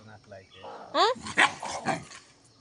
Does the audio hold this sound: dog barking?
yes